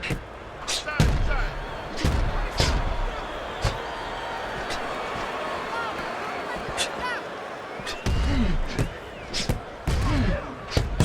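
Blocked punches to the head in the PS3 boxing game Fight Night Round 4, heard as sharp thuds and slaps scattered over a steady arena crowd roar.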